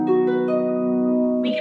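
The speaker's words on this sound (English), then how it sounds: "instead of plucking in the middle of the strings like this," Harp strings plucked in the middle, giving a few sustained, ringing tones that overlap and decay slowly, played close and clear with no talking.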